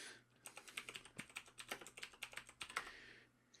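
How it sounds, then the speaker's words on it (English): Rapid typing on a computer keyboard, a quiet, irregular patter of key clicks running steadily for a few seconds in a room, with no voices. "Note to self cut out typing."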